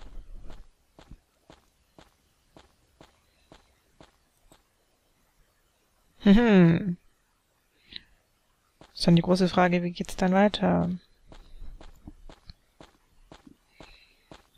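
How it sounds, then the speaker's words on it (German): Footsteps of a character walking through a throne room in Ankh: Heart of Osiris: steady, evenly spaced clicking steps at a quiet level, interrupted by stretches of speech. "Und dieses Schrittgeräusch immer."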